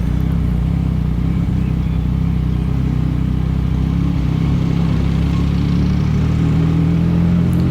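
A loud, continuous Yamaha MT-09 motorcycle engine roars steadily while riding through a tunnel under a bridge, with a booming, enclosed low rumble and no voices.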